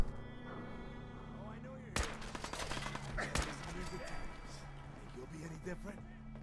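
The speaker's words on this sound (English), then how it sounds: "So they are shooting at me." Enemy gunfire in the Fallout 4 survival game, a couple of sharp shots and a short burst ringing out over a game soundtrack and ambience, with a player talking throughout.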